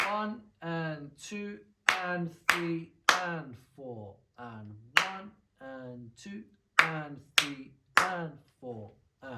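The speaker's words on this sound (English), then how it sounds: "So if I was to clap that, it would sound like this." Hands clap an eighth-note rock beat pattern for a beginner drum lesson, a series of sharp, close claps in steady rhythm while a voice counts the beats aloud over them.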